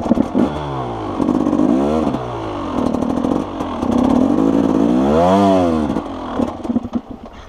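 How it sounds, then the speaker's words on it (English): A motorcycle in first gear revs and pulls up a hill at a riding school, its loud engine note rising and falling in several sweeping surges for the whole stretch. "Just letting the bike pull up the hill."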